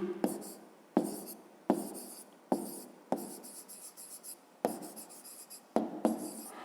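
A pen writes an answer to a fifth-grade maths problem by hand, in a series of short scratching strokes with brief pauses between them, close and fairly quiet.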